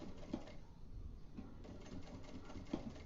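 Pedal-controlled sewing machine stitching a compact wallet, a steady close mechanical hum and rapid needle chatter with faint periodic clicks, running continuously without speech.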